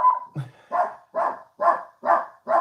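A dog barks six times in a steady, evenly spaced series, close and fairly loud, with short silences between barks and no talk.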